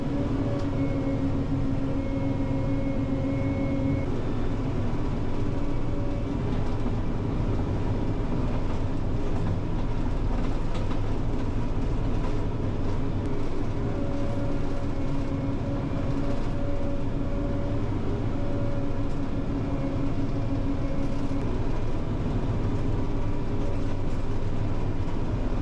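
A tracked dump truck hauling a load at a landfill gives off a continuous heavy rumble with clanking track noise and a steady engine drone, close and unbroken throughout.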